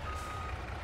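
A truck in Farming Simulator 22 rumbles with a low steady engine drone while a continuous reversing beep sounds over it, heard briefly and close.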